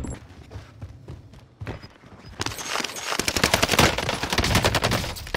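Rapid submachine gun fire in Call of Duty Warzone on Rebirth Island, starting with scattered shots and then breaking into loud, sustained automatic bursts of dense, close cracks.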